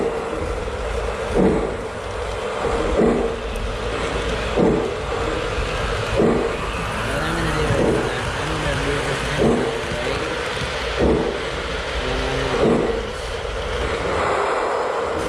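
A Hudson steam locomotive moves along the track. A steady mechanical rumble runs throughout, with regular chuffing bursts repeating about every second or two, fairly close and loud.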